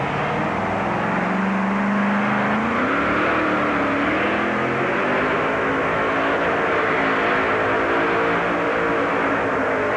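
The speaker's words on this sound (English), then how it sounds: "you can hear the whistling of the engine" A supercharged monster truck engine drones loudly and continuously at a 1990 Memphis race, with a rising whistling whine sweeping upward over the roar, held steady at close range.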